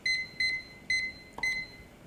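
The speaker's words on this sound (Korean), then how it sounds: "3분을 정확하게 재기 위해 타이머를 사용하겠습니다." A kitchen timer set for three minutes while udon noodles boil, beeping four times in short, bright, evenly spaced pulses, fairly close and clear, with a faint clink just before the last beep.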